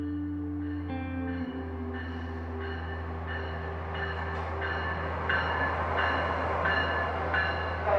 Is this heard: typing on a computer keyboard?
no